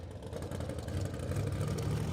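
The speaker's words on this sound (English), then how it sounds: "Some long burnouts from two absolutely good drivers" Drag racing cars doing long burnouts at a Christmas bash drag event, a steady distant engine roar and tire noise, sustained with no breaks and no talk.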